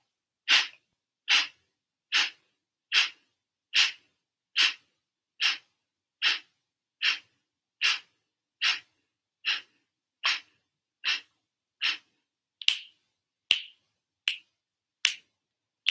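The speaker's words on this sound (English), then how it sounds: "Inhaling through the nose, 3/4 of the way full. Round 2, forceful exhale." Forceful breathwork exhales, about twenty sharp, evenly spaced breath bursts pushed out in a rapid steady rhythm, close and clear with silence between each, the last few slightly harder and more ragged.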